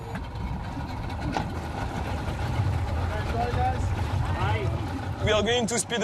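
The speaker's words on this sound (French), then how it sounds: "Jean-Baptiste prend la mer à bord d'un bateau à moteur." A motorboat engine runs at sea off Mozambique, a steady low drone continuing throughout while someone talks over it.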